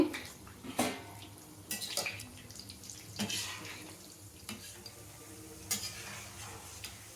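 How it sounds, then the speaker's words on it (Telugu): Diamond-shaped namkeen chips made from dry dough sizzle in hot oil while being stirred, giving a soft continuous bubbling with scattered clinks and scrapes of the utensil, fairly quiet and close, with no talking. "ఇవిగండి నూనెలో వేసి ఇలా తిప్పుకుంటూ ఉండాలండి"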